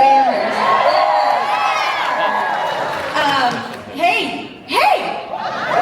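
Crowd at a MegaCon Orlando convention panel for Horror Nights, cheering and whooping with scattered shouts, loud and close, with voices rising in bursts over a steady roar of the audience.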